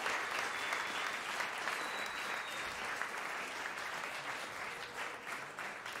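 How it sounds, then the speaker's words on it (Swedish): Warm, continuous applause from an audience, fairly distant and soft, with steady clapping throughout and a faint whistle-like tone briefly rising near the start. "Jag tycker att vi ger dem en varm applåd."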